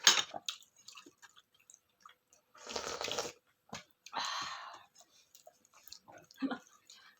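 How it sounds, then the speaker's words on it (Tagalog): Someone slurps vegetable soup broth in a few short, wet bursts spaced between quiet moments, close to the ear, with light chewing and small mouth sounds around them. "Sarap higupin ng sabaw"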